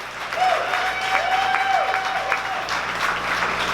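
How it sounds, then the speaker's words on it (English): Audience applause after a motivational talk, continuous clapping from a crowd with a faint whistle-like tone running through part of it. "Let's give them a round of applause."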